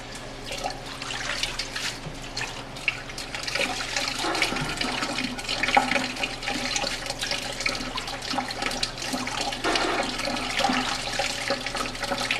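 Water sloshes and splashes steadily as leafy greens are rinsed in a sink, a continuous close churning rush of liquid with no talking.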